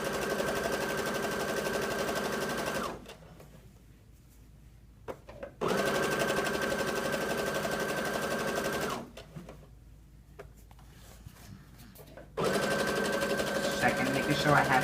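A sewing machine stitches a 5/8 inch seam on a jumpsuit in two loud, steady whirring runs separated by quiet pauses, close up, with a short start of a third run at the end.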